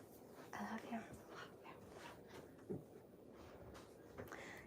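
A pet dog named Harper comes into a room during a livestream, giving a few soft whimpers and yips with light panting close by, mixed under a voice talking and calling to her.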